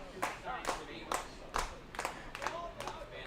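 A baseball crowd at a Saugerties Stallions game claps in a slow, spaced rhythm, about seven distinct claps a half-second apart, with an announcer talking over it.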